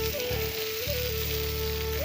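Pointed gourd with onion and chilli frying in a pan, a steady close sizzle running through without pause, while a faint tonal hum drifts underneath.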